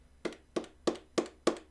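A silent arcade controller button gives five soft, muffled taps at a steady pace, each a dull thud close by against a quiet background.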